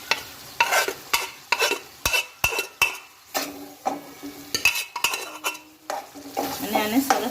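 Boiled mung beans being stirred into sizzling fried masala in a pan, with a series of sharp spoon scrapes and clinks against the metal roughly every half second over a soft frying hiss.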